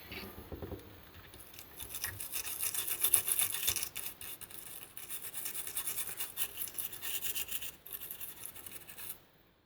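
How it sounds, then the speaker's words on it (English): Steady bristly scrubbing of a toothbrush over a corroded motherboard PCB, a soft close rasping in repeated back-and-forth strokes that swells and fades before stopping at the end. "So now I'm just going to scrub that area that's affected with the toothbrush to try and remove the crap"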